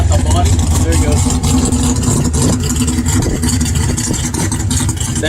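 A dragster built like a bodiless funny car with a giant rear wing and bicycle tires up front, its engine roaring loud and steady as it rolls past, with broad low rumble and crowd noise around it.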